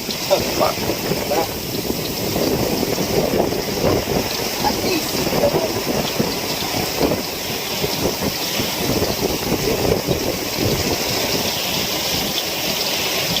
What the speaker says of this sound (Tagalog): Kaya yan, lakas ang hangin.